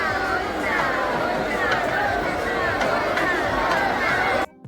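A dense crowd at a temple festival procession for a Srinivasa kalyanam celebration, a continuous close babble of many voices with indistinct talk throughout, cutting off abruptly at the end.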